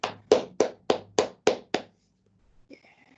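One person claps seven times in a steady, even rhythm, the claps close and crisp, then a short silence before faint sounds follow.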